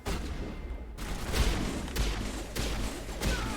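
Mass Effect gunfire at Peak 15 on Noveria: continuous loud shooting with several heavy, booming shots landing about every half second over a dense rumble, with no talking.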